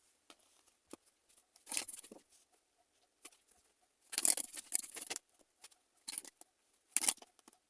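Tarot cards are shuffled and drawn, heard as scattered soft flicks, riffles and brief papery snaps in short bursts separated by quiet gaps, close and fairly faint, with no talking.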